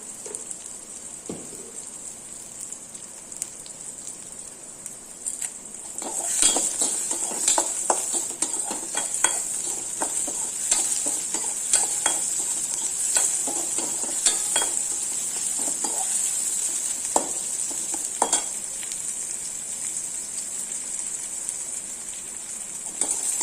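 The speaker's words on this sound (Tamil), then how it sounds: "வெங்காயம் ஓரளவு வதங்கிடுச்சு." Onion with a dried red chili hisses in a pan, softly at first, then a louder sizzle kicks in after a few seconds as a spoon stirs and scrapes, with no one speaking.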